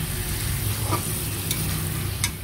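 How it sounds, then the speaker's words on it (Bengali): Fish and potatoes sauté in a home pan with a steady sizzle throughout, broken by a few light scrapes and clinks of stirring. "মাছটা কষিয়ে তুলে রাখলাম, আর এখন হচ্ছে আলুটা ভালো করে কষিয়ে নিলাম।"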